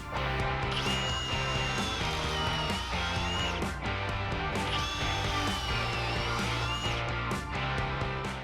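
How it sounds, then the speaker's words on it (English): A power drill whines into wood in two long bursts, drilling pocket holes, pitch rising and falling as it bores, with short pauses and clicks between. "Now I'm going to drill some pocket holes in each of these"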